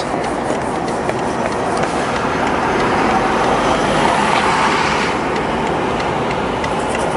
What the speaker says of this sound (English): Why are there so many cars?